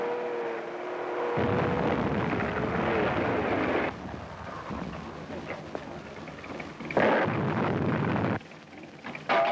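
World War II battlefield artillery fire: a sustained, heavy roar of guns and blasts that shifts in intensity over several seconds, loud and rumbling, with a voice calling out over it.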